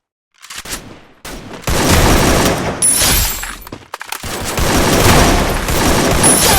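AK47 gunfire in the video game Free Fire: loud, dense bursts of rapid automatic shots with brief gaps between volleys, close and dominant, with no talking.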